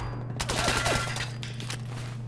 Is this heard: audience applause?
no